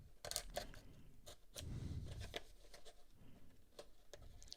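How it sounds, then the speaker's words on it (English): Packing tape is cut on a small product box, sounding as quiet, close snips and crisp clicks with faint crinkling in between. No one speaks. "Cut the tape here."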